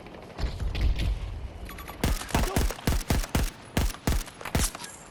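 Burst-fire weapon shots in Battlefield 6: after a rumbling stretch of distant gunfire, a series of loud, close, sharp cracks follows in quick irregular groups, each shot distinct and punchy, with no talking.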